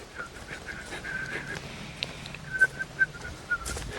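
A voice imitates a wet, breathy whistle, producing thin wavering tones with spitty bursts and short sputtering blips, fairly faint and close.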